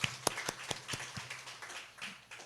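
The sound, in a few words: congregation applauding in church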